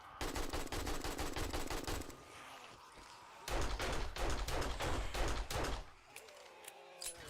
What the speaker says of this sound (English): Time for the AK